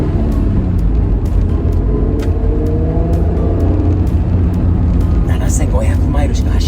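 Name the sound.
1991 Honda NSX driving onto the highway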